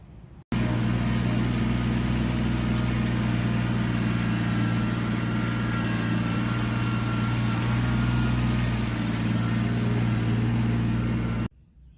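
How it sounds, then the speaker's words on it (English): A Kubota BX2380 compact tractor's small diesel engine idles steadily and close by, a continuous low rumble with a faint rattle that holds without change for the whole stretch. "today I was doing some work on my property with this Kubota tractor"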